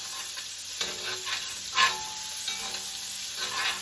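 Onion and turmeric frying in equal parts butter and oil for curry crab give a constant bright sizzle with faint stirring scrapes, close and steady and without talk.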